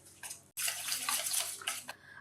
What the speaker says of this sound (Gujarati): આની સાથે જ આપણે અડધો કપ પાણી એડ કરવાનું છે